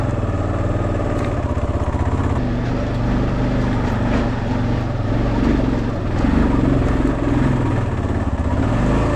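A motorcycle ridden along a rough dirt road in the woods, its engine droning steadily and loudly throughout with a rumbling, pulsing texture and bumps from the uneven surface, close up and without talking.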